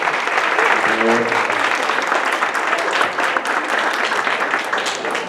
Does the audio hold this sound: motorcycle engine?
no